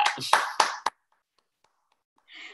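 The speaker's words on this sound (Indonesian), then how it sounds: "Mari kita berikan tepuk tangan buat Kak Fitri Audia" A short burst of clapping for a guest speaker at a talk on studying in Japan: several sharp, close claps in the first second, then near silence before brief voices return at the end.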